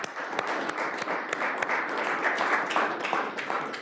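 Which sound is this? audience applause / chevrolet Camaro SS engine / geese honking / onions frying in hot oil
audience applause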